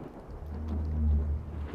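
A low thunder rumble in the video game Stalker: Call of Pripyat swells to a peak midway and then fades, deep and fairly close, with faint rain behind it.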